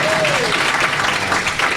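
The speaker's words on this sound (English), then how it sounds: "come on, let's have the applause" Audience applause at a live storytelling talk, steady dense clapping throughout with a brief voice heard over it at the start.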